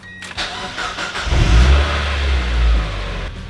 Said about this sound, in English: I'm gonna give it a start now just to make sure it's back where it used to be, at least in a running state.